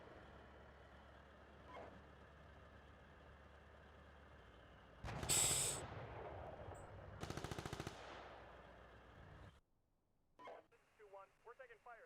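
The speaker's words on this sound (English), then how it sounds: "We're taking fire here" Bursts of simulated machine-gun and cannon fire in the Steel Beasts Pro PE tank simulator during a Finland campaign defence mission, with a loud burst mid-clip and rapid rattling, followed by quieter radio-like chatter.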